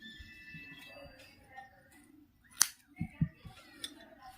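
Scissors snip through a crocheted yarn chain close by, one sharp cut followed by a few softer clicks and handling sounds, with quiet background noise.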